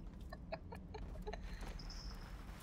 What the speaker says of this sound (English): You almost hit the chicken.